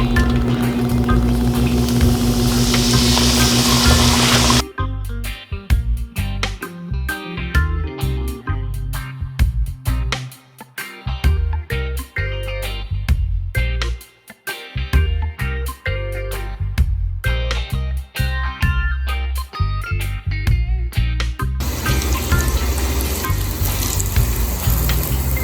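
Flier bream fish fry in piping hot grease, a loud, dense sizzle that is clear at the start and end and buried under rhythmic music through the middle.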